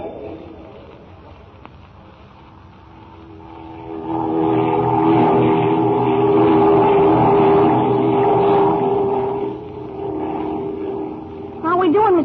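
A propeller airplane engine drones in an old radio drama, rising from a quiet start into a loud, steady roar that holds for several seconds before easing slightly at the end.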